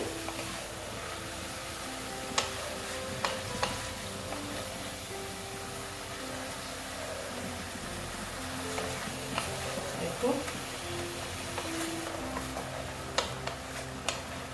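Bottle gourd greens frying in a pan, a soft continuous sizzle with occasional sharp ticks and scrapes as the spatula stirs them, fairly quiet and close.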